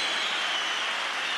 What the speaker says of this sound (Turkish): Bu alkış